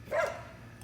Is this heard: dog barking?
yes